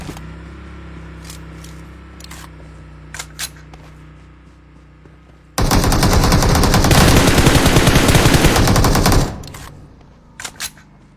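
Gunfire in PUBG Mobile, a dense, loud burst of rapid blasts lasting several seconds that cuts in abruptly after quiet game ambience, followed by a couple of short clicks.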